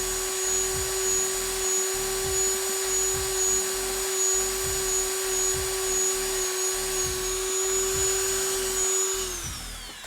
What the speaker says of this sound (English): start Dremeling away from the tip instead of towards the tip. That will help you reduce marks from the Dremel on your foam.